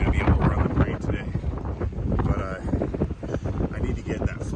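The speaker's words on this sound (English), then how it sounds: "It's so windy right now" Strong gusting wind batters the microphone outdoors near a flagpole during dangerously high winds, a loud continuous rumbling roar.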